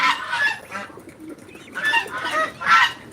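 Soft pigeon coos and some clucking chickens close by in a shared farm coop, in short bursts with gaps between, and no talking.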